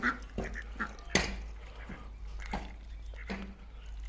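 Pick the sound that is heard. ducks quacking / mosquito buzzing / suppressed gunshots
ducks quacking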